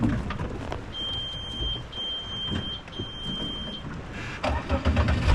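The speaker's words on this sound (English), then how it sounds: "This treble beep you just heard means that the engine stopped while the ECU was still trying to run it." An outboard engine's ECU gives a high, thin repeated beep after the engine stalls on a RIB. Three short steady tones sound over wind, water and motor noise outdoors.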